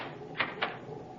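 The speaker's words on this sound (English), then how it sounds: "You may lock the door now." Two quick, faint clicks sound close together as a door is locked in a ship's cabin, set against a quiet background hiss.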